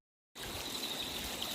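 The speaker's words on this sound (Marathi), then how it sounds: "पाण्याचा आवाज" Water in a stream on a hillside trek flows with a steady, faint rushing hiss. It starts abruptly after a brief silence and carries on without speech.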